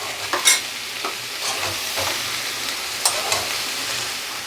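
Mushrooms and capsicum sizzle in a pan for a spicy mushroom curry, with soft scraping stirs and a few sharp clinks of the spoon against the pan over a steady low frying hiss.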